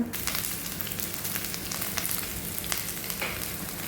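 Curry leaves, chopped ginger and garlic frying and stirred in a pan for a Kerala-style beef curry, a busy close sizzle broken by sharp spoon scrapes and clicks, with no voices.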